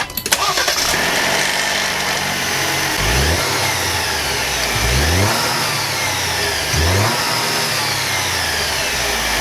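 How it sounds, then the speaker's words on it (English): A Jeep Wrangler engine cranks and catches on a cold start, then runs at a steady, loud idle with a few brief revs rising and falling. "And now we'll have a listen to the cold start."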